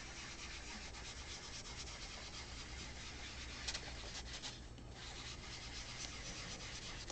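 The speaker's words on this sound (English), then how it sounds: "bring our sponge in again. And I'm just smoothing out that color." Soft pastel color being smoothed across paper with a sponge, a steady close scratchy rubbing that continues alone for several seconds with slight swells in intensity.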